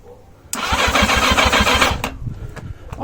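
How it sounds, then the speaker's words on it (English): A 1980 Yamaha XJ650 motorcycle with no fuel gets a start attempt. The starter cranks loudly and rhythmically for about a second and a half, then stops abruptly, and no engine catches. "I get a start attempt with no grinding"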